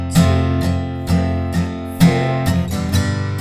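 Close, clear acoustic guitar strumming the chorus chords of a song: crisp, evenly spaced strums with short muted gaps, repeating in a steady pattern, alone without any voice.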